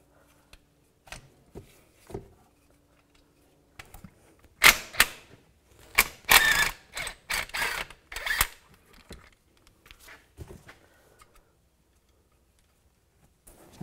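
A 13 millimeter socket wrench loosens and spins nuts off the front passenger-side CV axle of a 2011-2019 Ford Explorer, giving a cluster of sharp ratcheting clicks and metallic clatter in the middle, with quiet handling noises before and after.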